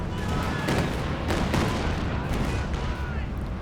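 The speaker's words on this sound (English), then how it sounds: "nice rocket artillery" Rocket artillery in Company of Heroes 2 rumbles through a 3v3 battle as a dense barrage of booms and gunfire, rolling continuously with a few stronger blasts, while a commentator speaks over it.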